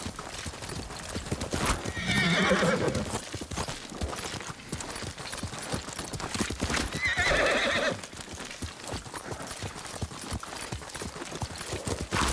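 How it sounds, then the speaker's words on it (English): Rhythmic hoofbeats of a galloping horse in the video game Ghost of Tsushima thud continuously, with two loud whinnies breaking through. "Quickly, Nobu! Yuriko's horse. She can't be far"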